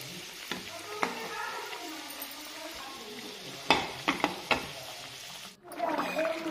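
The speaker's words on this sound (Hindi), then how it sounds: "पलट पलट करेंगे, सुनहरा होने तक हम इन्हें पकाएंगे मध्य आंच पे।" Veg chow mein rolls fry on medium heat, giving a steady soft sizzle broken by a few sharp clicks of turning and a scrape near the end.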